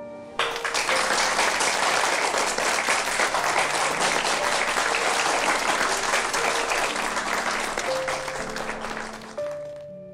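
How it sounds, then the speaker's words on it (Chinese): Sustained audience applause greets a guest arriving at a wedding ceremony, steady and full across the whole stretch, with faint background music tones underneath. "大家掌声欢迎"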